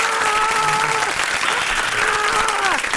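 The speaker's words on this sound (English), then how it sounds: "let me do my applause for you, Kenneth." Applause sound effect played by a radio live-stream host, steady crowd clapping and cheering held at an even level for the whole stretch, with a faint voice underneath.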